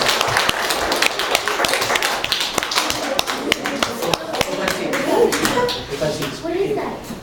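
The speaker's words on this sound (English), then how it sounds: "give your actors a round of applause" Sparse, uneven claps from a small audience applauding actors at Riley's Farm, close and sharp, with people talking over them throughout.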